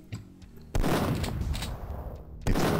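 Gunfire in the video game Duke Nukem 3D, played in co-op, bursts out in a sudden loud volley after a quiet moment, rattling on, then another abrupt burst starts at the end.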